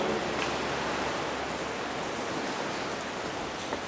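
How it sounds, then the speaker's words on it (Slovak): Steady rain falls outdoors in Ireland as a dense, even hiss that continues without a break and with no voices. "ale tu normálne, že prší"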